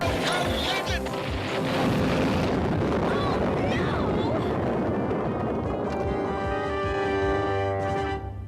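A cartoon explosion from Inspector Gadget erupts as a loud, dense crash and rumble that swells and lingers, followed by a ringing, tonal tail, with character voices over it.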